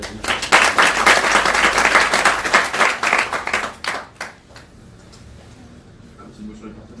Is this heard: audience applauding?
yes